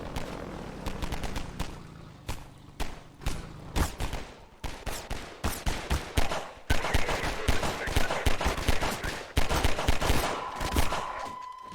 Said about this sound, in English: Oh no, there are some things shooting at me.